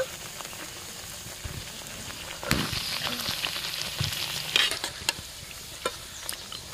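Sago luchi frying in hot oil gives a steady, low sizzling hiss, with occasional sharper crackles and a few spoon or pan knocks, close but fairly quiet.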